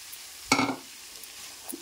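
Boiled black chana tipped into a pan of softened tomatoes for a beetroot curry, a single brief soft thud and wet sizzle burst, then a quiet low simmer.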